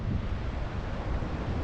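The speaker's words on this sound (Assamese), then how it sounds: "বতাহ আহি আছে গাইজ, বহুত ধুনীয়া বতাহ দেখা পাই আছে" Steady wind roars into the microphone at Chapora Fort in North Goa, a dense, continuous rumble with no pauses and no one speaking.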